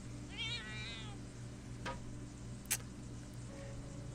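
A cat meows in the video game Deus Ex: Invisible War, a short wavering meow over a low steady hum, followed by faint ticking clicks.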